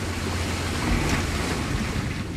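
Water rushes and washes continuously around the Vanguard-class submarine HMS Vengeance as it submerges, a loud, dense, steady roar with wind-like buffeting and no speech.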